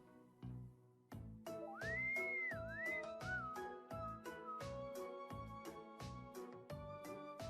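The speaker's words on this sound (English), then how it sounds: "That innocent whistling isn't fooling anyone." A character in the video game The Legend of Heroes: Trails of Cold Steel whistles innocently, a clear sliding tune rising and falling over steady rhythmic game music, with no talking.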